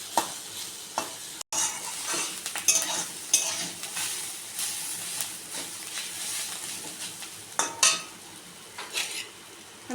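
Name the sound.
stir-frying egg chow mein in a pan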